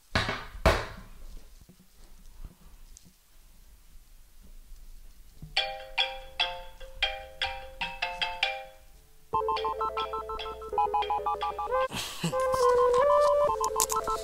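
A phone rings repeatedly with incoming scam calls, a short tone at the start followed by bursts of melodic ringtone chimes that repeat in clear rhythmic phrases and grow fuller toward the end.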